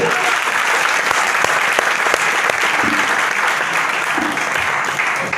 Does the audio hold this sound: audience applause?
yes